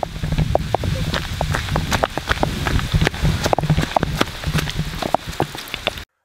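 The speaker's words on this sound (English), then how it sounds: "oh my god, rain!" Heavy rain pours down outdoors, a dense steady patter with many distinct drops striking close by and loud for the whole stretch, no voices over it.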